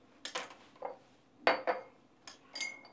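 Garlic cloves drop into a glass jar in four or five quick, close clinks and rattles, separated by short quiet gaps.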